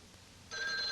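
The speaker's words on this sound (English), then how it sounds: "The phone ringing." A telephone bell from a sound effects record starts ringing halfway through, a bright trilling ring, fairly faint and alone.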